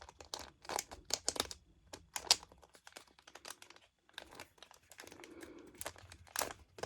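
Plastic wrapping on a Pokémon card box crinkles and tears close up in quick, uneven bursts, with scattered crisp rustles and short pauses between handfuls.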